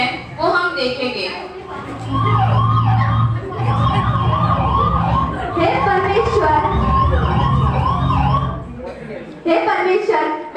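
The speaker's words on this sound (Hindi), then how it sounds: "तब उस अंधी भिखारी की नजर एक एम्बुलेंस की आवाज सुनाई देती है।" An ambulance siren wails loudly and continuously with rising and falling tones, while a voice speaks over it throughout.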